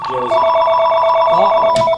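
A cell phone rings with a steady electronic tone in a barn-side setting at a service dog project, sounding loud and close for about two seconds, with a brief rustle near the end.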